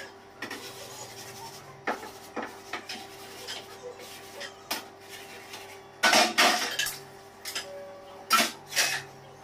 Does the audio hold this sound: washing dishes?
yes